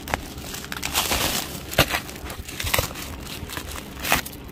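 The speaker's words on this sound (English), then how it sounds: "open it with a scissors." Crinkling and crunching of plastic packaging close up, with scattered scissor snips and rustles as a McDonald's Happy Meal toy package is cut open, no voices.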